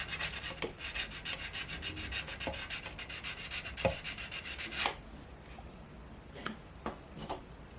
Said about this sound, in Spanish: Voy a lijar.